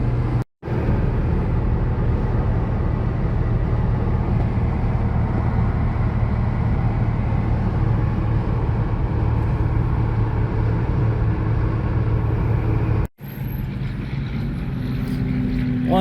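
A GMC Syclone truck cruises down the road, its engine and road noise forming a loud, continuous, steady drone from inside the cab, with brief dropouts near the start and end.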